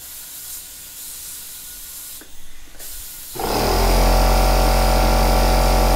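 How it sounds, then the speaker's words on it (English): A Handy S.A.M. 1200 motorcycle lift raising a bike in a home garage starts up with a brief hiss and then a loud, steady mechanical whine and hum that holds to the end. "But yeah, let's lift the bike up."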